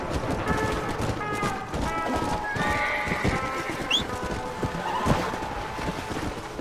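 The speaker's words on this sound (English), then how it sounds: "Get back here, horsey!" Horse in the Red Dead Redemption Undead Nightmare video game whinnies in a clear, drawn-out neigh mid-clip, with hoof clip-clops and game ambience throughout.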